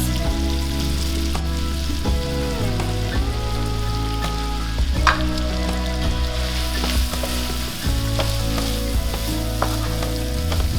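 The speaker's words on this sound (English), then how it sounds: "We're going to add in a cup of white rice. We're going to saute this for like 30 seconds." A cup of white rice sautes in a pan with a continuous, fairly loud crackling sizzle. Occasional scrapes can be heard, with no voices.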